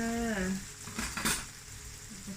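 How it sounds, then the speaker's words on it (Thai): Eggs stir-fried with corn in a pan give a soft, steady sizzle. A metal utensil scrapes and clinks against the pan now and then, with a brief hum at the start. "คั่วไข่ไปเลยนะคะคั่วไข่"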